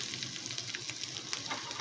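Tempering of spluttered mustard seeds, green chili and asafoetida sizzling in hot oil, a brief, close, even crackle at moderate loudness with no voices.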